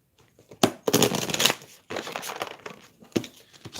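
Crisp riffling and papery slaps as an oracle card deck is cut and shuffled by hand, in several short, close bursts separated by brief pauses, with no voice during the sounds.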